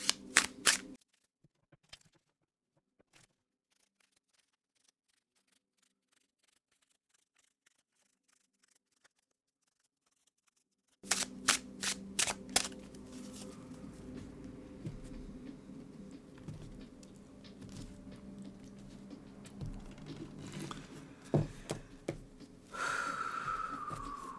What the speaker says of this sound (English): I am going to go ahead and give the deck a really good shuffle for you.